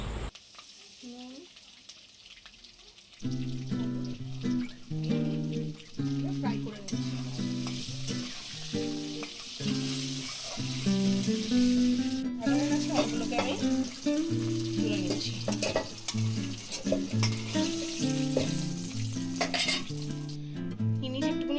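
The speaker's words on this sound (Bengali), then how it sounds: "আলুগুলোকে আমি নুন হলুদ দিয়ে ফ্রাই করে নেবো" Potatoes frying with salt and turmeric for a dhaba-style chicken kosha, a loud continuous sizzle with repeated stirring and clattering against the pan, starting after a quiet opening and carrying steadily over a tonal background.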